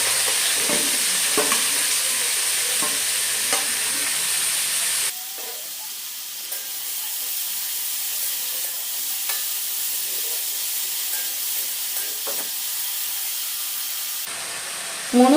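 Three large onions sizzle steadily in hot oil for macaroni, a continuous close frying hiss with occasional clicks and scrapes of stirring.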